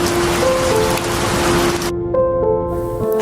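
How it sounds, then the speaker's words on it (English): Rain falls outside a shop as a steady, fairly loud hiss for about two seconds, then cuts abruptly to a quieter indoor background with a sustained hum. "And it started raining."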